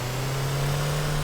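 Steady car engine in the video game Teardown, a constant close hum with a strong low drone, revving slightly but holding an even pitch throughout a short moment.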